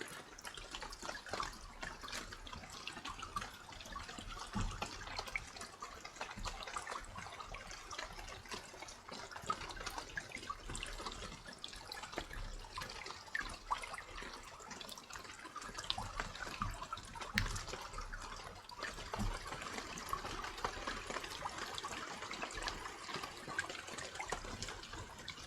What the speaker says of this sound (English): The rain and the storm's pushing the surf up.